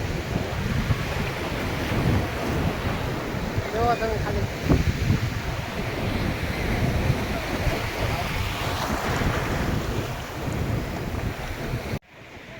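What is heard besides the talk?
sea waves and wind on Somnath beach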